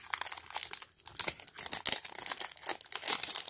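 A Toy Story collectible blind box is unwrapped up close, giving dense crinkling and crumpling of plastic or foil packaging with small tearing bursts in an irregular, busy rhythm. The sound is fairly quiet, and nobody talks.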